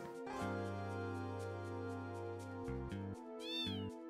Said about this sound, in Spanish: ¿Qué coño hace el gato encima de la cabeza?